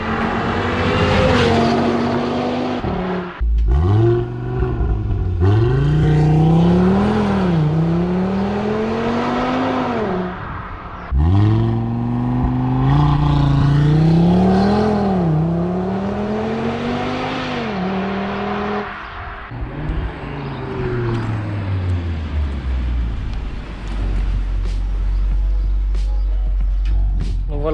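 An Audi RS3 with a 400 hp turbocharged engine revs hard outside, rising and falling in repeated loud pulls with deep rumbles between bursts, ending in a low idle.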